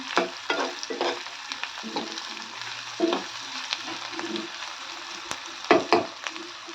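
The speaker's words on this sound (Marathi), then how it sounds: "छान कलर येईपर्यंत आपण तळून घेऊ कांदा होऊ द्यायचा आहे आपल्याला" Onion frying in a pan with garlic cloves, a soft steady sizzle broken by occasional stirring scrapes and clinks, fairly quiet and close, with no voices.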